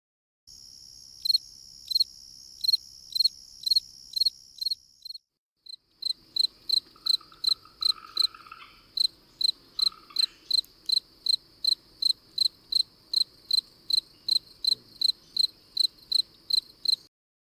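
Crickets chirp in a played recording at twilight, a bright steady trill with regular pulsed chirps, faint and clear against a quiet background, briefly pausing partway through.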